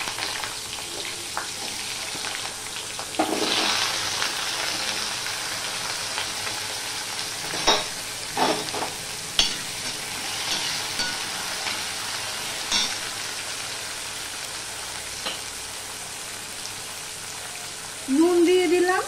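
Potatoes dropped into hot oil with cumin seeds, a soft frying hiss with scattered crackles and a few bursts of spatula scraping, ending in a louder surge of sizzle.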